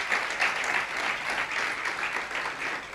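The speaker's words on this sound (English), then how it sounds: "Can you please give them a round of applause for me?" An audience at a poetry event at the Ake Festival applauds a drinks sponsor, with steady, dense clapping from a sizeable crowd filling the room evenly, without a break.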